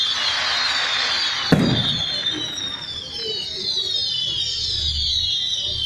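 Bonfire night fireworks whistle and crackle at a distance, with one sharp bang early on and ongoing hissing, fizzing bursts across the sky.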